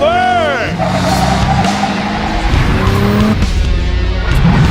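Cars in the video game Cyberpunk 2077 rev hard and skid, with loud engine whines rising and falling and squealing tires, under an energetic narrating voice.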